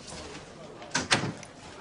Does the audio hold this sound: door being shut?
yes